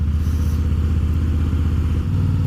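A Harley-Davidson Fat Boy engine idles with a steady, low, throbbing pulse, loud and close throughout, and no one speaks over it.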